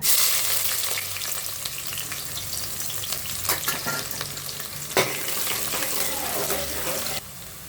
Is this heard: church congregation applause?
no